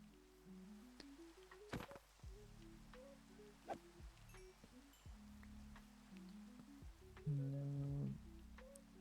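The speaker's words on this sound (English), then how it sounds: "The rain is annoying." Rain falls in the video game Minecraft as a soft, steady patter under quiet, blocky game tones and occasional clicks, with no voices.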